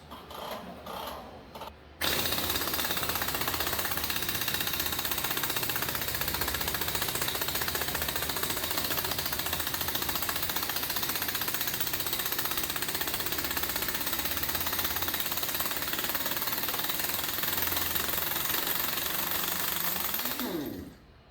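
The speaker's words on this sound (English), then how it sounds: "That's with a 3/4 impact." A 3/4-inch impact wrench zips off large wheel bolts on a Dodge Ram 3500 truck left sitting in a field for six years, a loud continuous rapid hammering rattle running nearly twenty seconds after a short start, close up.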